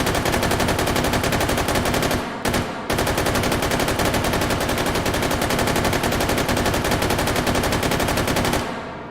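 Sustained automatic fire from an M249 machine gun shooting 5.56 rounds in the video game H3VR, a loud continuous rapid stream of shots with one brief pause near the start, running for several seconds before stopping.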